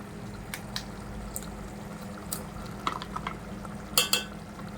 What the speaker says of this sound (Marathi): तर मी आता दही टाकून घेतले ना आता हलवून घ्यायला मस्तपैकी असं